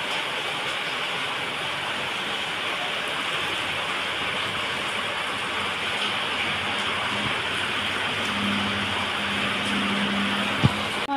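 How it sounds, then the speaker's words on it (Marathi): Heavy monsoon rain pours steadily outside a window, a dense, constant hiss with no breaks, and a faint low hum and a single sharp knock come in near the end. "भरपूर पाऊस पडला।"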